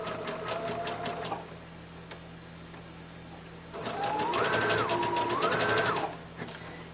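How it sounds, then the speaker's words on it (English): A sewing machine runs zigzag stitches along the raw edge of a seam on an 18-inch doll dress, whirring in two bursts with a quiet pause between them. "now right along the very edge we're just using the zigzag stitch just to finish that seam right along that raw edge here"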